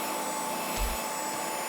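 A Dyson DigitalSlim Fluffy cordless vacuum cleaner runs steadily with a loud, even whine, with a brief low thump partway through.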